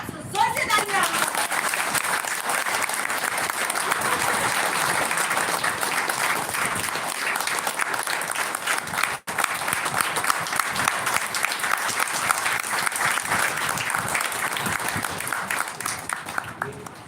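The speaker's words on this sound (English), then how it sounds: "So, जोर से तालियां." A school audience at an academic fair breaks into loud, sustained clapping that fills the room evenly from start to finish, with a dense, steady texture and no pauses.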